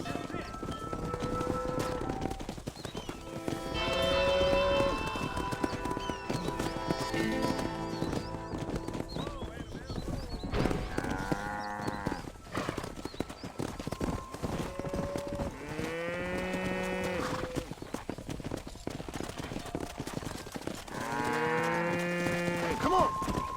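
Cattle lowing and horses whinnying over steady hoof clip-clop as a herd is driven across a ranch in Red Dead Redemption, with repeated moos rising clearly above a busy outdoor game soundscape.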